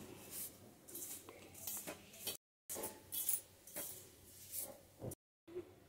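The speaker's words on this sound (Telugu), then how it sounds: "సరిపడా సాల్ట్, ఉప్పు, కారం వేసుకున్నాక ఇలాగా బాగా కలుపుకోవాలి" Spoon scraping and clinking against a steel bowl while mung bean powder is mixed with chili powder and salt for pesara podi, in short repeated strokes with brief pauses.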